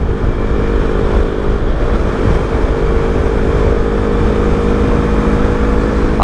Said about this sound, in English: you just whack the throttle open and it crosses 140